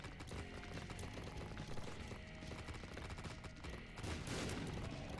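In The Binding of Isaac: Repentance, during the Hush fight, a dense barrage of explosions and rapid impacts runs nonstop. It is loud and busy throughout, and grows heavier near the end.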